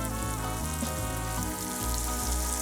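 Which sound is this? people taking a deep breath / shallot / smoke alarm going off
shallot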